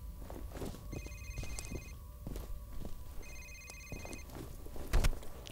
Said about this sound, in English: That's like a cell phone or something.